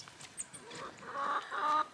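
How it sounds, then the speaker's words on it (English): Chickens on a farm cluck and murmur nearby, a few short calls followed by a louder run of overlapping clucks, moderately quiet against a calm background. "The chickens."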